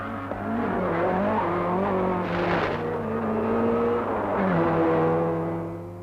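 A rally car races along a tarmac stage of the 1971 Circuit of Ireland, its engine droning loudly and steadily and rising and falling in pitch as it accelerates hard, with no talk over it.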